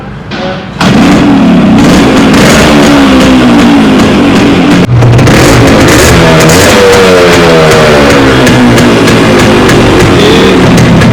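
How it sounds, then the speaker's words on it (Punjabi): A 1994 Yamaha motorcycle engine starts and revs loudly up close, settling briefly before climbing through several more rising revs with a steady rough idle between them. "ਮੋਟਰਸਾਈਕਲ ਪਹਿਲੀ ਕੀ ਇੱਕ ਸਟਾਰਟ ਆ"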